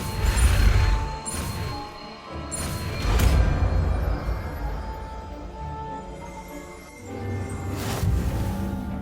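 Depulso spell in the Hogwarts Legacy video game: repeated magical force blasts with crashing impacts, several loud bursts over a rumbling low background, separated by a few seconds.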